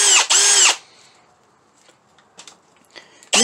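A Milwaukee M18 Fuel cordless combi drill whirs loudly for a short burst, then quiet follows with a few faint handling clicks and taps, ending as the drill starts again.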